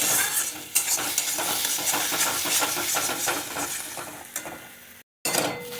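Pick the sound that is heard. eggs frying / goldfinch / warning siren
eggs frying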